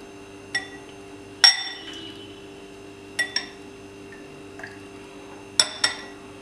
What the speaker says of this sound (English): I'm going to half fill these shot glasses with the jelly water